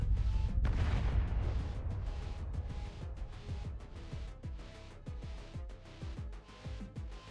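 Explosive detonation in the game Arknights: a heavy booming blast rolls out, followed by a rumbling series of lower thuds and scattered pops that gradually settle, loud and close with no talking.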